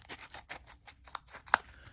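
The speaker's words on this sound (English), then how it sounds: "They cut through cardboard without an issue at all." Roxon M2 multitool scissors snip repeatedly at close range, a quiet run of short crisp cuts ending in one sharper, louder snap near the end.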